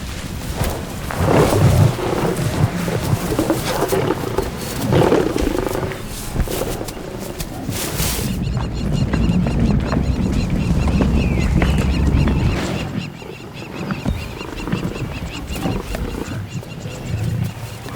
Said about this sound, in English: Returning to ground, the lions claim their kill.